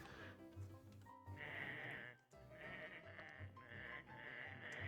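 Sheep in the video game Shear Madness bleat in repeated wavering cries over busy game music and sound effects, fairly loud and continuous.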